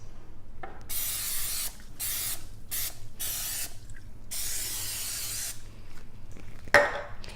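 Cooking spray hisses onto a deep Belgian-style waffle iron in several sharp, close bursts of varying length, separated by short pauses, with a faint clink near the end.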